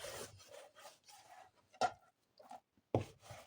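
Food is cut into small, irregular pieces for nuggets, with scattered rasping knife strokes against a board, several brief and two sharper ones, close by with quiet gaps between.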